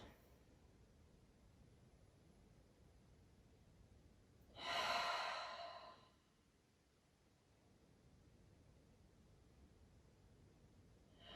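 Cleansing breaths during a vinyasa yoga session, drawn in through the nose and released out through the mouth, with one loud, breathy exhale of about a second standing out from a quiet room.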